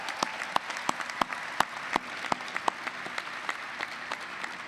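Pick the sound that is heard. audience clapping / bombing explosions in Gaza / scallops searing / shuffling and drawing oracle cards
audience clapping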